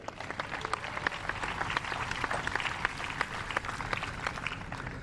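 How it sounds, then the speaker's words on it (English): An audience at a Champions Cup tennis final gives Michelle Cope a round of applause, a dense, continuous patter of many hands clapping that stays fairly faint and even for the whole stretch. "How about a hand for Michelle Cope?"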